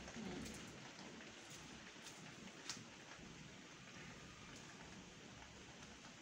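Steady rain falling outdoors after a long dry spell, a faint even patter on surfaces with a few louder drops, no talk.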